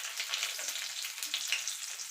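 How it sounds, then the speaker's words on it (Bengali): Chopped garlic frying in hot oil with cumin seeds, a steady bright sizzle that crackles continuously and sits close, with no voices. "রসুন কুচিটা একটুখানি ভাজা ভাজা করে নেব"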